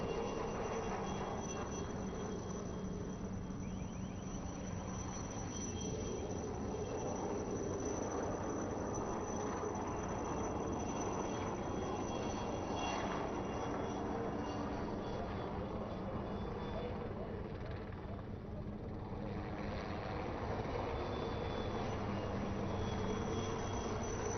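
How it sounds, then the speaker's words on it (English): A steady loud roar of rotor and engine noise fills the whole stretch, dense and unbroken, as a Chetak naval helicopter hovers close by during a naval exercise. "the naval helicopter Chetak approaching the hijacked vessel"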